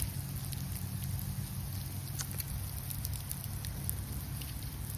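Hail falls in an animated Thomas the Tank Engine short, a dense, even patter of stones across hard surfaces that holds steady throughout with a low rumble underneath and no voices.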